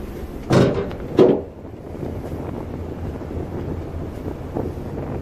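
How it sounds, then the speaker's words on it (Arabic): Wind buffeting a handheld microphone outdoors by the sea in Morocco, two sharp loud gusts near the start, then a steady low rumble of wind noise continuing to the end, with no talk. "اسمحوا لي الا تقطع الصوت لان كاين الريح"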